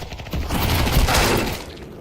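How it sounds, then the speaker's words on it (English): A flashbang grenade detonates in Counter-Strike 2 with a loud, broadband burst of bang and crackling that holds for over a second before fading, with no talk over it. "Deploying flashbang. Throwing flashbang."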